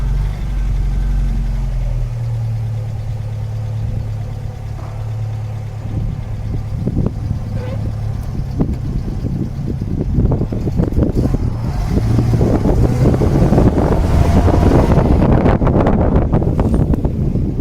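A 1979 Volga GAZ 24 car pulling away in first gear, with a steady low engine drone and rising road and wind rumble that grows louder toward the end, heard from inside the cabin.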